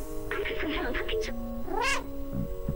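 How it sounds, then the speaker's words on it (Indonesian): A cat in the video game Stray meows several times in quick succession, a rising drawn-out meow following a run of short chirps, close and clear over a faint background tone. "Iyalah, kucing."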